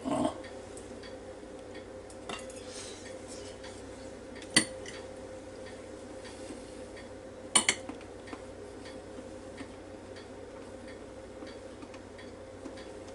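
A fork and cutlery clink against dishes in a kitchen during a one-pot shrimp and sausage meal, two or three sharp metallic taps over a steady low appliance hum, with faint scattered clicks.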